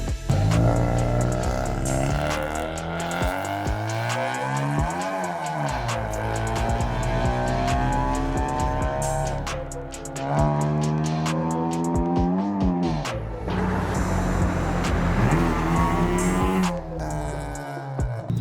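An aftermarket catback exhaust with aftermarket headers on a 9th-generation Honda Civic R18 revs hard and loud, engine pitch sweeping up and down repeatedly in aggressive bursts, close by with a raspy, droning tone.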